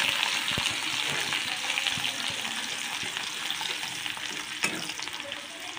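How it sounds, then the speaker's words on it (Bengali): Finely chopped onions fry lightly in a pan, giving a steady, close sizzle with occasional stirring clicks and scrapes throughout, and no talking. "এবার এটাকে হালকা করে আমি ফ্রাই করে নেব।"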